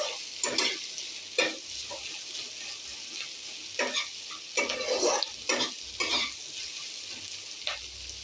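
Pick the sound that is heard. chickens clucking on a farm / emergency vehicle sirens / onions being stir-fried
onions being stir-fried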